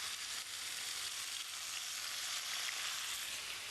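Fish sizzling as it fries in hot vegetable oil in a pan, a steady, dense hiss throughout without pause, close and fairly loud, with no talking.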